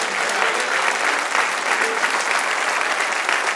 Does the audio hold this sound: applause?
yes